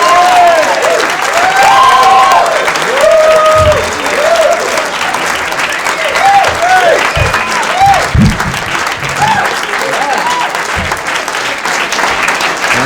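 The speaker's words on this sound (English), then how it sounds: "Please, a nice round of applause for Mr." Sustained applause from an audience greeting comedian Dan Spencer at a 1986 cable comedy show, a dense, loud roll of many hands with cheering voices mixed in, close and full throughout.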